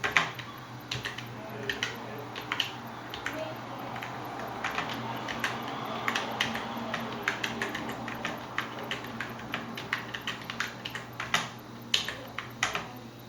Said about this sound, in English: So letter S, let me type it out.